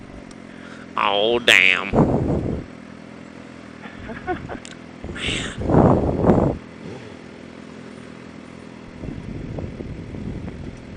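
A 400 motorcycle with soft suspension cruising along a city avenue, its steady engine drone and wind rush running underneath as riders talk and exclaim over it.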